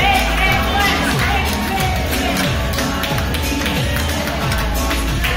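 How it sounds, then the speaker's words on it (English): At a Roce celebration, a loud, dense crowd chatters and shouts while a wife cheers on her husband scraping a coconut, with rhythmic scraping and tapping running steadily beneath the voices. "The wife is cheering here for her husband who is doing a very bad job."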